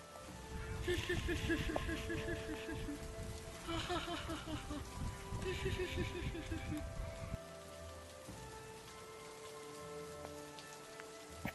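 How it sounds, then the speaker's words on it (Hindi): Steady cartoon-style rain falls in a dark bamboo jungle near a broken hut, a dense even patter that continues throughout with faint tonal music layered over it. "बारिश भी तो कम हो चुकी है।"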